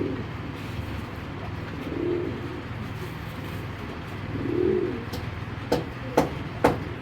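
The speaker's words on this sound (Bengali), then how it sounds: "চলুন কবুতর দুটো একটু দেখাই।" A male and female pair of tournament game pigeons give two low, soft coos several seconds apart, followed by a few short, sharp clicks near the end, over faint background noise.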